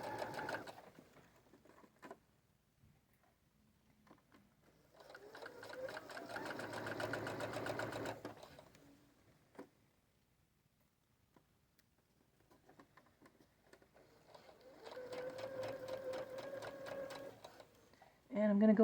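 A sewing machine stitches a centered zipper seam in two bursts of fast, even rhythmic clatter, backstitching over basting, quiet and close, separated by pauses where someone talks.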